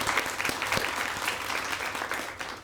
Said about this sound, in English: Can everybody give Miss Case a big round of applause?